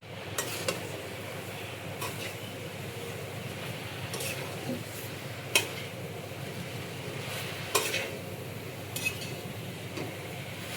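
Taro leaves (kochu shak) dry-frying in a pan without oil, a soft steady sizzle under a faint background hum, broken by a few sharp clinks of a utensil stirring against the pan.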